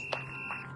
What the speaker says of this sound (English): I forgot to turn my timer off again